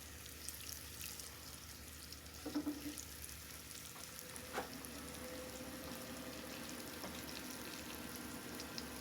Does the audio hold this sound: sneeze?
no